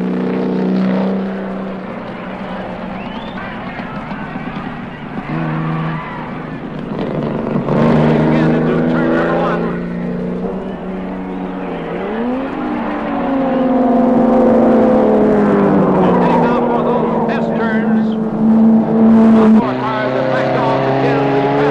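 Race cars on the opening lap of the American Grand Prix, 1950s-era road racing, their engines droning and shifting pitch as they pass, with tones rising and falling continuously and a loud, steady roar throughout.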